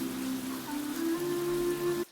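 Light monsoon drizzle in the green surroundings of Kamatpada village near Karjat, a soft steady patter under a sustained low tonal hum, fairly even throughout before cutting off abruptly at the end.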